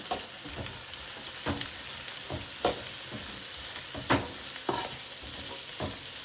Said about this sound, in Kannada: ತರಕಾರಿ ಎಲ್ಲ 1-2 ನಿಮಿಷ ಫ್ರೈ ಮಾಡ್ಕೊಳ್ಳೋಣ